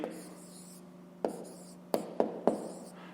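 A pen or pencil writing a fraction by hand during a fifth-grade maths exercise, heard as a few short, distinct taps and scratches on paper over a quiet, humming room.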